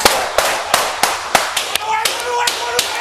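Gunfire during a police response to an assault call: sharp evenly spaced bangs, about eight shots in three seconds, loud and close, with a voice talking underneath.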